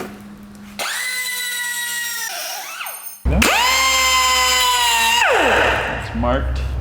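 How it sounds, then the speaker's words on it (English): Power saw cutting two lengths of aluminum, a loud sustained whine with ringing harmonics through two long cuts, each starting abruptly and winding down at the end. "So I'm gonna go ahead and cut 2 pieces of aluminum that are that long."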